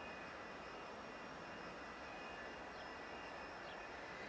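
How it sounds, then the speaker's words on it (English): Jet airliner departing in the airport management game SimAirport, a steady, faint engine roar holding evenly throughout with no voices. "There goes that other plane."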